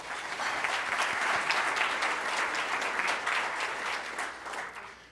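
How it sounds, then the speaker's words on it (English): Audience at a Rotary Club of Tulsa meeting gives a sustained round of applause, steady dense clapping throughout that tapers slightly at the end, with no talk over it. "Let's give him a round of applause."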